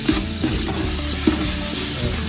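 Tomatoes are stirred into a biryani base in a hot pan, with a spoon scraping and knocking against the metal in a few distinct strokes over a steady sizzle. Close and fairly loud, with no talk.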